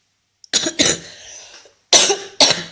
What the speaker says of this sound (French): Ah, je suis désolée, la toux là